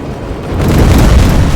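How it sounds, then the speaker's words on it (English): A loud, deep rocket explosion in Terminator Resistance swells into a heavy rumbling boom that fills the short stretch, close and powerful. "Rockets! They're heading this way!"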